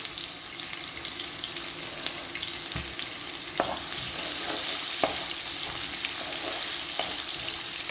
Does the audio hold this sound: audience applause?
no